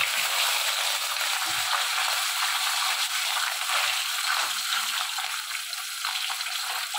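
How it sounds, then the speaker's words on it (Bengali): Fish frying in hot oil in a pan, a continuous bright crackling sizzle held close and steady throughout, with a few faint clicks as a piece is turned over. "দেখুন আমি এবারে এই মাছটাও উল্টে দেবো।"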